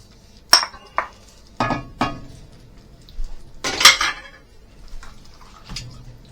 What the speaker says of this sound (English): And now, in goes our tin of chickpeas.